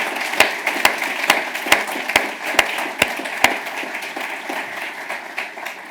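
Audience applause at a London faith and belief community awards ceremony, a dense steady patter of many hands with a few sharper, louder claps standing out at regular intervals, gradually thinning toward the end.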